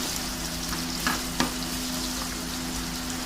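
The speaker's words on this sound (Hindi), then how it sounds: "थोड़ा सा प्याज भुन गया है प्याज" Onions frying in a pan for balti gosht, a steady close sizzle with a couple of brief stir clinks, no voices.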